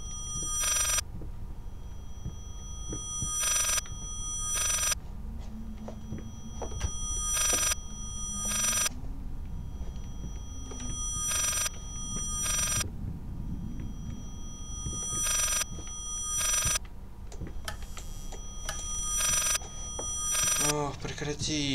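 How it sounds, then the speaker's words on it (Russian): A telephone rings repeatedly inside the horror game Layers of Fear, with evenly spaced bright rings over a low ambient hum, joined by someone talking and some creaks and movement. "Тупой телефон, надоел."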